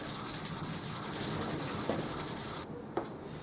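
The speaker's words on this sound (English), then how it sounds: "let's give it a bit more rubbing on the 600" Steady hand rubbing of a wood finish with 600 grit abrasive, a continuous close scratchy hiss in rhythmic strokes that pauses briefly near the end, with a couple of small knocks and no voices.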